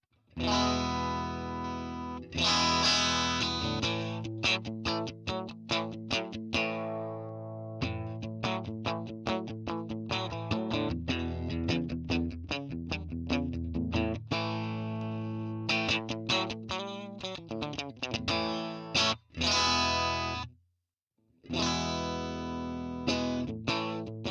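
Distorted electric guitar through a Hotone Ampero amp modeler with heavy effects plays busy riffs and chords for a long stretch, broken by a brief silence near the end.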